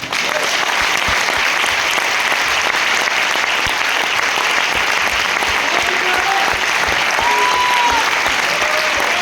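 Loud, sustained applause from a large seated audience at a corporate sales meeting in Faridabad, honoring the company chairman; dense clapping continues steadily throughout with crowd noise and faint whistles.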